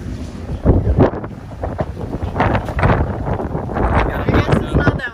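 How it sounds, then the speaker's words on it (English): Strong gusts of wind at a beach buffet the microphone in loud, uneven bursts of low rumbling roar that rise and fall throughout, heard close and without talking. "Listen to the wind."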